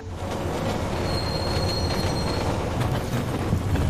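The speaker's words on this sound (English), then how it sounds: "aboard the very, very angry streetcar, or subway car, rather." Subway car in Deus Ex: Mankind Divided rolling along with a loud, continuous metallic wheel squeal and a steady rumbling, clattering roar, constant throughout with no talk.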